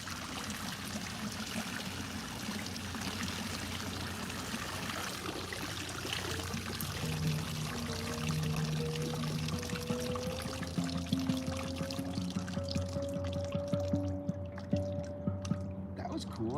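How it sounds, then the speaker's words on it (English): Water pouring and trickling out of a musical instrument, a continuous splashing stream with a faint rising tone as it drains, over soft background noise. "let me let the water out of this thing"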